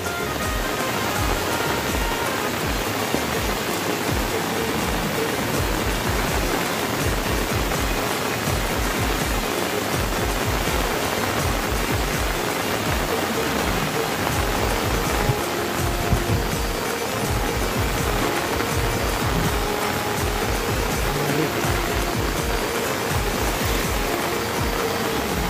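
Heavy rain pours onto a flooded river, a dense, unbroken roar of water that stays loud and even throughout with no voices.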